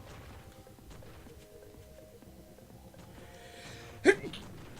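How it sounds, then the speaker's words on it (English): A single sharp sneeze bursts out near the end, loud and close, after a stretch of quiet room tone with faint background sound. "Stop sneezing all over my shit."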